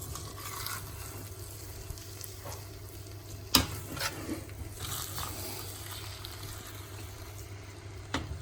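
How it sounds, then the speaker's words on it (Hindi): Soft stirring and a gentle sizzle as chopped coriander and ginger are mixed into a dhaba-style urad dal tadka, with a steady low hum beneath and a single sharp clink partway through. "चलिए इसको करेंगे थोड़ा सा मिक्स"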